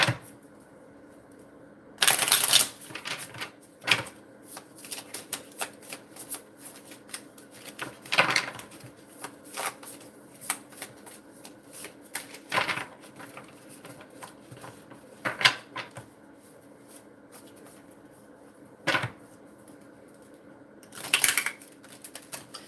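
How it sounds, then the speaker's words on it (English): Cards being shuffled by hand over and over, with crisp intermittent bursts of riffling and clicking scattered through a long, quiet stretch. "So let me go ahead and shuffle again."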